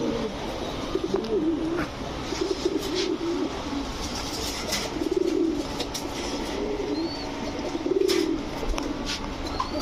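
Pigeons, including tumbler breeds, coo repeatedly in soft, low throaty phrases amid a busy outdoor background with occasional chirps.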